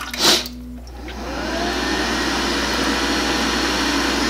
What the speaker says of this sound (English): And now it's blowing actually quite warm air